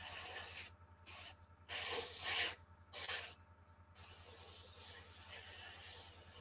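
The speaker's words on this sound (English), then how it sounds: "So now you notice I'm not particularly caring too much about my overspray," Aerosol spray paint hisses in four close, loud bursts of about half a second each, applied around a repair patch, with a steady low hum underneath between passes.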